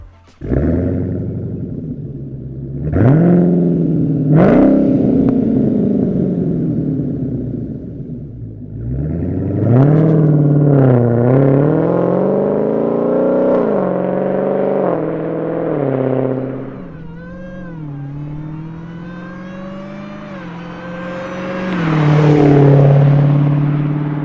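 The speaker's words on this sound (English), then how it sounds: "we got the big Hellcat Challenger on the ground and we're gonna give it a listen" A Dodge Challenger Hellcat's V8 exhaust, with an MBRP 3-inch cat-back quad rear exit system, revs and accelerates repeatedly, deep rumbling roars rising in pitch with each pull, loud and close.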